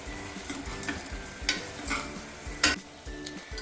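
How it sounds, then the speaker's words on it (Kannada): Hyacinth beans (avarekalu) fry in a pan for saaru, giving a continuous sizzle with a few louder stirring scrapes and clatters nearby, over a faint background tone. "ಅದಕ್ಕೆ ಕಾಳು ಹಾಕಿದಾಗ ಒಂಚೂರು ಫ್ರೈ ಮಾಡಲೇಬೇಕು"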